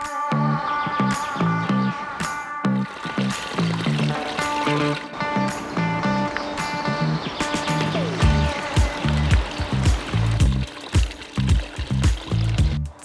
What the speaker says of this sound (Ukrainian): І тут є джерело з дуже смачною водою.